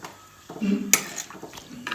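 A spoon clinks and scrapes against a pot while a mango curry mixture is stirred, giving a few close, short metallic knocks and scrapes over about two seconds.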